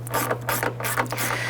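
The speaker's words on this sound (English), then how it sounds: "Now for installation, I switched over to a 8mm on my ratchet." A ratchet with an 8mm socket clicks steadily in short, quiet strokes, tightening the mirror bolt on a 1992-1996 Toyota Camry, with a low electrical hum underneath.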